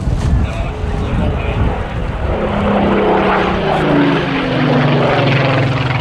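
Warbird with a 35-litre Rolls-Royce engine in a flying display at an air festival, a loud propeller-engine drone whose pitch slides downward as it passes, with wind buffeting and no clear voices.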